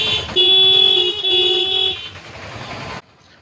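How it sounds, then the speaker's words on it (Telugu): Vehicle horns blare from traffic waiting at a closed railway gate on the Padana Guduru road: a loud, close sustained honk with a second overlapping, then fainter traffic noise before it cuts off. "గేటు తీయట్లేదని జనాలు ఎలా హారన్లు భోగించేస్తున్నారు చూడండి."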